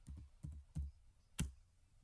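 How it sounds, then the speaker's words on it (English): Soft keystrokes on a computer keyboard, four separate taps spaced unevenly over two seconds, close and quiet with no talk. "I'm going to type on a keyboard, impact."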